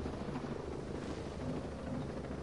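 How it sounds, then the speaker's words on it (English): A helicopter in a PS4 video game gives off a steady, dense rotor and engine roar that holds even and fairly loud throughout, with no talk. "Get in the helicopter."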